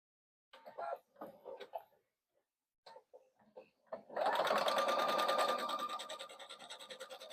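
A sewing machine stitches a quarter-inch seam across the top of a bag pocket, joining lining and outer fabric right sides together; after a few seconds of light handling and rustling, a loud, steady mechanical whir runs close by, tapering near the end.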